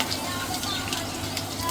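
Green chillies sizzle in hot oil close up as a tempering, a steady hiss with light crackles.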